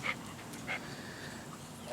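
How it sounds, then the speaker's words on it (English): A dog pants softly at close range, quick faint breaths with a couple of brief higher whimpers, fairly quiet. "What a happy dog."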